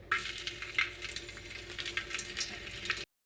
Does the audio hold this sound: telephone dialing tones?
no